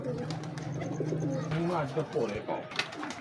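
Several breeder pigeons coo close by with soft, rolling throaty calls that repeat one after another, over a faint background bustle.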